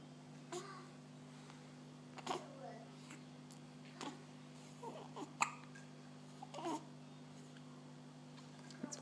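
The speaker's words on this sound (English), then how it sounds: "It's finding his hiccups quite entertaining." A 13-day-old newborn boy hiccups repeatedly in short, soft, irregular bursts, with faint infant vocal sounds between them over a steady low electrical hum.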